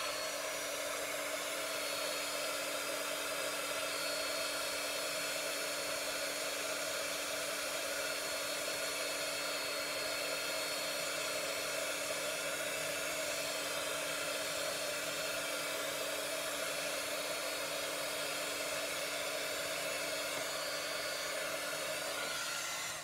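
Hair dryer drying a watercolor painting of a Bomb Pop popsicle, a steady, even blowing hum running unbroken for over twenty seconds at moderate loudness, with no talk.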